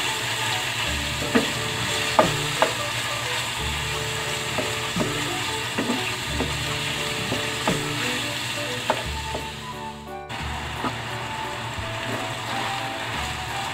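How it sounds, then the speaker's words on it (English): Adobo sauce being stirred into banana blossom and black beans in a hot pan, a steady sizzle broken by repeated clinks and scrapes of the spoon, with a brief pause near the end. "And then haluin lang."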